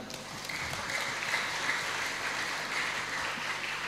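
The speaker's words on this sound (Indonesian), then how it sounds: "Tepuk tangan." Steady audience applause in a hall at a pesantren graduation ceremony, a dense, even wash of many hands clapping at moderate level, continuing without a break for the whole stretch.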